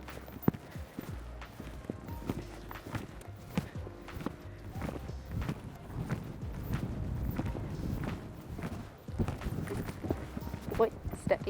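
Horse hooves cantering around an arena, a steady, loud rhythmic clip-clop throughout with a rider's voice talking over it at times.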